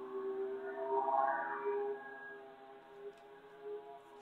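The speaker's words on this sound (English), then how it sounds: "You hear the sound of the drone." A military drone drones steadily overhead with a thin, sustained tonal whine, faint and fairly distant, rising and falling slightly in pitch.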